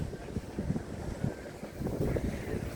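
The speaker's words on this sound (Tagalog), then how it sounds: "Napakasarap ng hangin dito, napakasariwa." Blustery wind by Laguna Lake buffeting the microphone in uneven low rumbles, with a faint watery wash in the background and no talking.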